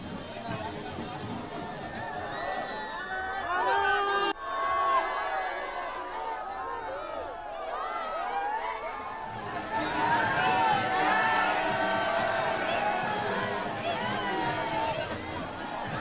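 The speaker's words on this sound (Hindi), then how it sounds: "एक बड़ी भीड़ जुट गई है प्रधानमंत्री का स्वागत करने के लिए भुज में" A large crowd in Bhuj greets a prime minister's road show, with steady, loud outdoor chatter and a rising hubbub of many voices, while a person talks close by over the noise.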